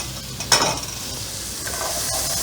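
Chicken stew stirred in an oiled pan, a steady frying sizzle with a sharp scrape and clatter of the spoon against the pan partway through, close and moderately loud.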